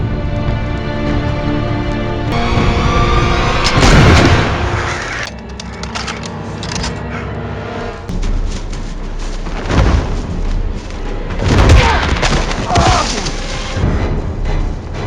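Heavy booms and sharp bursts like gunfire ring out several times over a dense, loud cinematic music bed.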